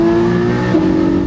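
A Porsche 718 Spyder engine revs hard toward its 8,000 RPM red line, loud and close, a steady rising engine note with no talking.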